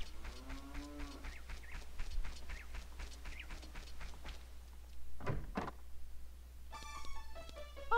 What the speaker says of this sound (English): Oh, we got cows as well.